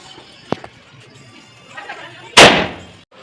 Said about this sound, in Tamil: இப்போ பட்டாசு அடிச்சுட்டு என்ஜாய் பண்ண போகிறோம்